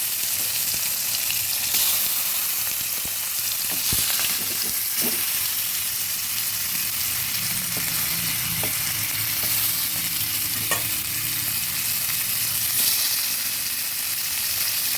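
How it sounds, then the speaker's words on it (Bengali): Pieces of boal fish frying in a little oil for a curry, a steady dense crackling sizzle with occasional spatters and utensil taps throughout, close and unbroken, with no talking. "এগুলোকেও আবার ভাজতে দিচ্ছি"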